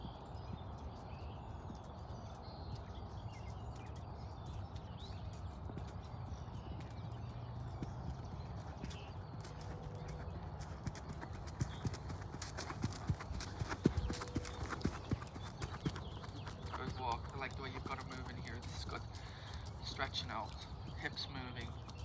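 A horse moves at a steady gait during a riding clinic, its hoofbeats a continuous clip-clop at close range, with occasional snorts, while people talk over it.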